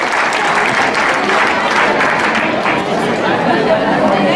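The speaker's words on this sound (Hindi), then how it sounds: "तालियां तो आप बजा दीजिए भाई।" A crowd at a school physics quiz bursts into loud, sustained applause, dense clapping mixed with chatter and voices, close and continuous throughout.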